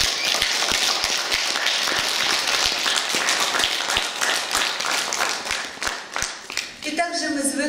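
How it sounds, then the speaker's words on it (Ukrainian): Hall audience claps loudly at a 70th jubilee celebration, crisp rapid individual claps forming continuous applause that tapers off as a voice begins near the end. "Прошу ваші оплески."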